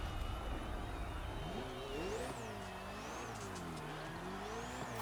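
A Ferrari engine in The Crew Motorfest racing game revs steadily with rising and falling pitch sweeps, loud and continuous over a circuit race mix, with faint tire squeal and no talk.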